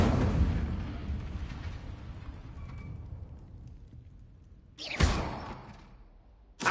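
An Incendio fire spell cast in the game Hogwarts Legacy erupts in a roaring burst of flame that fades into a crackling rumble, then a second sharp fiery blast and a brief third puff.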